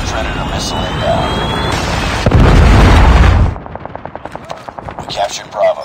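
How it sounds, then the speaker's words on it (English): A Predator missile strike in a Call of Duty Mobile 10v10 Domination match lands as a heavy, booming explosion over ongoing gunfire, followed by quick rhythmic rifle shots. "Friendly Predator missile inbound."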